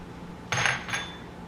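A spoon briefly stirs seaweed in water for miso soup, making two quick metallic clinks against the pot, close and clear against a quiet background.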